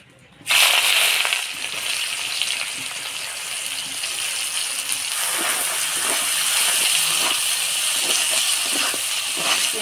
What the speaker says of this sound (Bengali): এবার ফোড়ন দিয়ে দিব পেঁয়াজ কুচি।